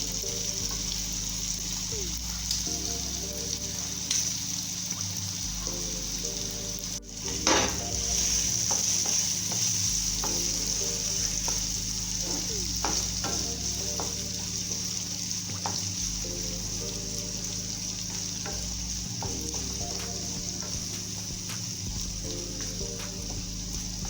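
Shrimp and liver sauté in a pan with a constant, close sizzle, while stirring scrapes and utensil knocks recur steadily and a brief clatter is heard partway through.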